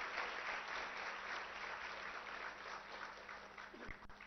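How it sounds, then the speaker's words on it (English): Audience applause at an anniversary celebration for a women's entrepreneurship hub, a sustained even wash of clapping that fades slightly toward the end. "I think she deserves a big round of applause from all of you."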